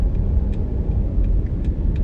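An automatic car accelerating and upshifting into second gear gives off a steady, close engine rumble with no speech over it.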